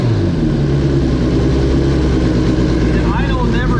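Suzuki GSX-R1000R superbike with a Yoshimura Alpha T exhaust idling up on a dyno, a steady loud rumbling drone throughout under a voice.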